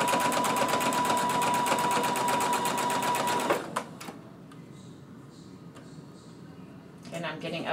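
Sewing machine stitching stretch fabric, a loud rapid mechanical whir for about three and a half seconds, then quieter handling clicks and rustles before a brief second burst of stitching near the end.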